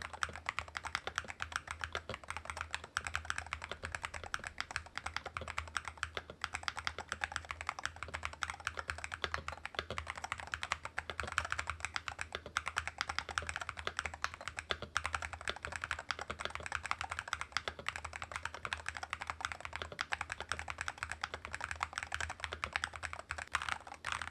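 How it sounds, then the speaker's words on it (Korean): Steady, continuous typing on a magnetic-switch gaming keyboard, with light, quick clacking keystrokes running throughout at an even pace, close up, with no voices. "게이밍 용도로 나온 제품이지만 타건 소리 한번 들어보겠습니다"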